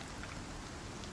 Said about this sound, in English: so here's the rain.